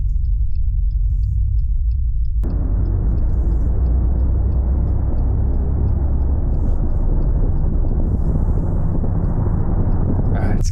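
A Dodge Charger Daytona Scat Pack Stage 2 EV in track mode runs its Fratzonic exhaust, a loud steady synthetic roar that jumps up in intensity early and holds throughout, with no talk.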